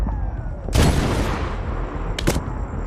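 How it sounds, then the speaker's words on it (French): Gunfire in the video game Medal of Honor: two loud sharp bursts, one near the start and a shorter one near the end, over a steady rumbling battle background. "Pas le temps de choisir, Deuce. Tire."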